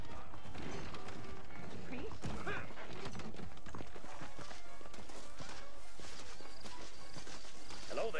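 Horse hooves clip-clopping in Red Dead Redemption gameplay, a steady walking rhythm mixed with game ambience and voices talking over it.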